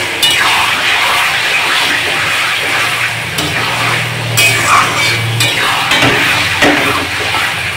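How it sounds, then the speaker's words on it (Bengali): Chicken and spices frying in a pan for chili chicken gravy, a steady sizzle with occasional stirring scrapes and clinks, close and moderately loud, with faint talk in the background. "এইভাবে মশলা আর চিকেনটা ভালো করে ভেজে নেবো পুরোটা"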